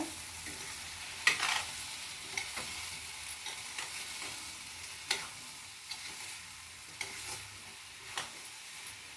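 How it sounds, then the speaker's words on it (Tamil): Cluster beans usili is stirred in a pan over a low flame, the spoon scraping in soft irregular strokes every second or so over a faint steady sizzle, close and quiet. "அடுப்பை சிம்மில் வச்சு நம்ம கிளறி விடணுங்க."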